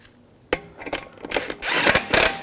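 Ratchet snugging a bolt on a 2007-2013 BMW 328i during front inner fender liner work, with short bursts of clicking and rasping pawl noise that grow busier and louder toward the end, close by and without talk.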